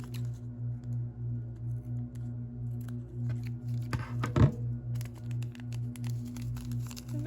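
Scissors snip off excess paper in a craft project, a few quiet crisp cuts and paper rustles close to the microphone over a steady low electrical hum, with no talk.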